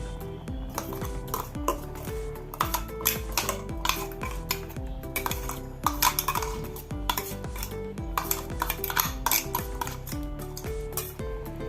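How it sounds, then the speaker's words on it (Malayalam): A spoon scrapes and clinks against a metal pot in quick repeated strokes, mashing a moong bean and plantain curry, a busy rhythmic clatter that continues without pause. "ഒന്ന് സ്പൂണും കൊണ്ട് ഉടച്ച് കൊടുക്കുക"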